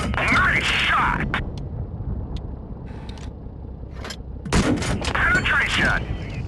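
Tank cannon shots in World of Tanks Blitz: two heavy booming blasts a few seconds apart, each ending in a metallic ring, with a few smaller impacts between them and people talking throughout.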